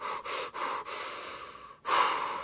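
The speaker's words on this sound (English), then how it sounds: "Heavy breathing." Heavy, ragged breathing from a dancer catching their breath after a crew performance: a few quick, close panting breaths, a short pause, then a deeper gasping inhale.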